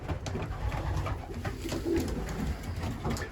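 Racing pigeons coo softly and repeatedly inside a loft, their low murmuring steady under a constant background hum.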